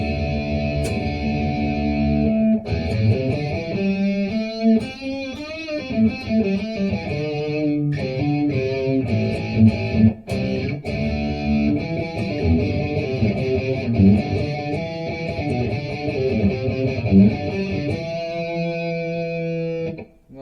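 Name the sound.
electric guitar with distortion pickup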